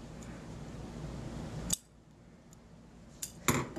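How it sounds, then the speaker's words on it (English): Scissors trimming loose threads off a sewn quarter-inch fabric seam, two quiet, sharp snips in a hushed room with no talk. "I'm going to take my seam and I'm going to trim the threads"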